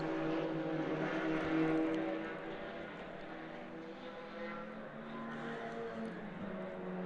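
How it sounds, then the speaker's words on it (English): Audi touring cars race around the Shannonville Motorsport Park circuit in a CTCC round, their engines a steady distant drone that swells and fades as they pass. "What a beautiful race machine and just an awesome sound it makes going around the racetrack here at Shannonville"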